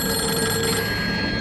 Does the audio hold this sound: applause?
no